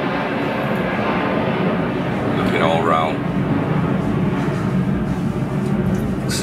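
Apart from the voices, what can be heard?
airplane flying overhead near an airport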